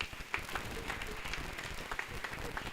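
A church congregation at a revival service claps in a faint, distant patter of applause that runs steadily for a few seconds.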